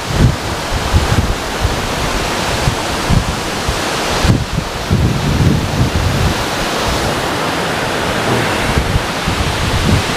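Heavy spray from the Agaya Gangai waterfall in the Kolli Hills pours down in a constant, loud, close rush with gusty wind buffeting the microphone and no voices.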